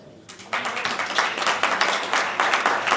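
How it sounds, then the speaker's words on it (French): An audience bursts into steady applause after a short pause, with many hands clapping densely and evenly for a few seconds at an indoor talk about heritage buildings. "on peut l'applaudir"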